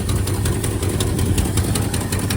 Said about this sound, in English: That exhaust leak's pretty bad.